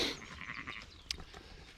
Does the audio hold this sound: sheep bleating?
yes